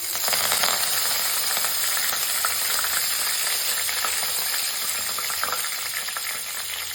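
Loud, steady sizzling of curry leaves dropped into hot oil, with crackling pops throughout and no voices.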